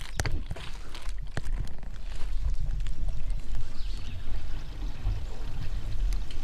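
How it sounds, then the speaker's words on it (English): Water rushing through a cabin's plumbing at a relief valve, a continuous noisy splashing flow with scattered knocks and clicks, fairly close. "I hear water running."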